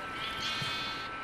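A sheep bleats in the Minecraft video game, a faint, brief call sitting in a quiet, steady background.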